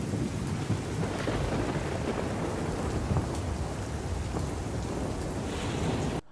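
Steady heavy rain pours down continuously with low rumbling underneath, dense and even, ending abruptly; a simulated rain effect made in Blender.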